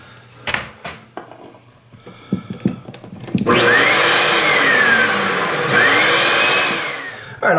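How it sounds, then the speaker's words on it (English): A wet/dry shop vacuum plugged into a bathroom GFCI outlet starts up after some clicks and handling. Its loud, close motor whine then ramps up and runs steadily, with a brief dip in pitch partway through. "I'll plug the wet dry vac in here just to see if it kicks on."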